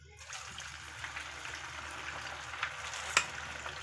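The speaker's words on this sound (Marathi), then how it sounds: "एक तळून घेऊ पहिले मग बाकीचे तळायचे" A single sabudana vada frying in hot oil, a continuous close sizzle with bubbling crackle and a sharp spatter near the end, heard alone without talk.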